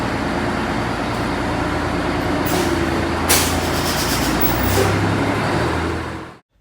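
A vintage MCI 5C bus, down on power, labors up a hill with a loud, steady engine drone and deep mechanical rumble that holds close and strained before cutting off abruptly at the end.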